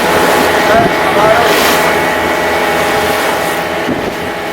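A fibre fishing boat off Kannur Harbour in the Kerala sea, running on two Suzuki engines: a loud, steady motor drone mixed with rushing wind buffeting the microphone.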